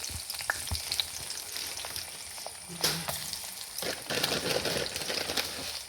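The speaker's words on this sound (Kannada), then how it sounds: "ಬೆಳ್ಳುಳ್ಳಿ ಒಗ್ಗರಣೆ ಹಾಕೊಂಬ ಇದಕ್ಕೆ ಎಳ್ಳೆಣ್ಣೆ ಹಾಕಂತ ಇದ್ದೆ" Crushed garlic crackling and sizzling in hot sesame oil for a tempering, a continuous bright frying hiss with a few pops and a light stir, no talking.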